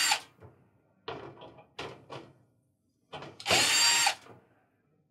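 A power screwdriver backs Phillips screws out of the rear access panel of a Maytag washer in short whirring bursts, the longest and loudest near the end, separated by near-silent pauses.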